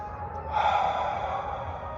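A person draws in one long, deep breath through the nose, close and audible, rising and then sustained before easing off.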